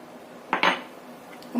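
A utensil clinks twice against a bowl while dough mixed with egg is stirred, giving short metallic taps followed by quiet.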